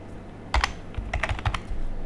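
Fingers type on a computer keyboard, entering a date into an online booking form: a close, uneven run of sharp key clicks in small clusters, with no voice.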